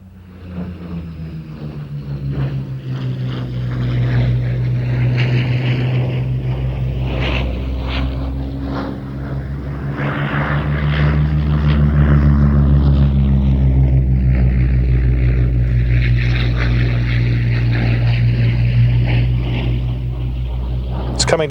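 A Spitfire fighter flying a display at the Old Warden airshow, its piston engine droning steadily and swelling louder as it passes, with a pilot's voice talking over it.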